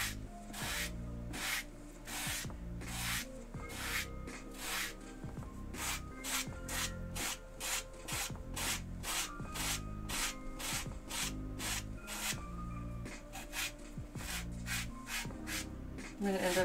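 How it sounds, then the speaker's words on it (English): Edges of leather pieces for cosplay armor being beveled, a rapid series of short scraping rubs in a steady repeating rhythm, close and fairly quiet, with no talk. "We can move on to beveling the edges."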